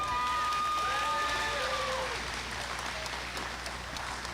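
Applause from an audience at a military leadership academy event, steady and moderately loud, with tonal sounds rising briefly over the clapping early on before the crowd noise settles into an even wash.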